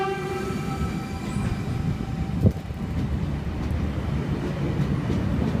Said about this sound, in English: V47 being the front four cars, V30 being the rear four, now departing platform number 1 here at Wickham